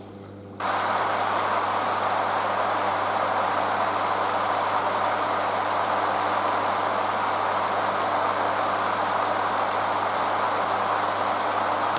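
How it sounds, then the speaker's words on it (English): Rain sound effect switching on abruptly to a steady, dense broadband hiss with a low hum underneath, continuous and fairly loud with no separate drips. "Rain starts instantly, but stops with no drips."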